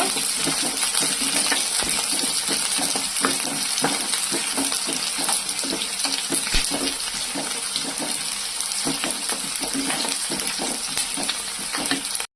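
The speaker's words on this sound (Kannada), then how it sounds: "ನೋಡಿ ಈ ಥರ ನೋಡಿ ಈರುಳ್ಳಿ ಕೆಂಪಗಾಗೋ ತನಕ ಹುರ್ಕೋಬೇಕು" Onions frying with curry leaves in a pan, a dense continuous sizzle with crackling pops and occasional stirring clicks, loud and close throughout.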